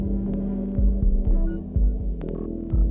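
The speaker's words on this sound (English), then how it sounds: "Yeah, you hear, it's just like a stutter effect" A music loop processed with the Replicant 3 stutter effect, giving a throbbing, pulsing low hum chopped into rhythmic repeated fragments with occasional bright glitchy bursts, fairly loud and without talk.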